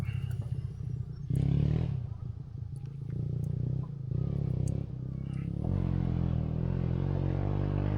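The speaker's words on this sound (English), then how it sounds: "Someone having a bit of fun on their motorbike." A motorbike revving near a lake in Australia, a steady low engine roar that swells and surges in waves, fairly loud, with no speech over it.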